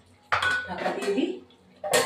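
A lid goes onto a cooking pot of thin chicken curry with potatoes, giving two brief metallic clattering scrapes close by, the second sharper, with a short clink in between.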